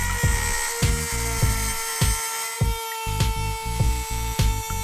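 A high-pitched Dremel 8220 rotary tool whines steadily while grinding through a metal axle in repeated short bursts, close and loud, with brief pauses between cuts.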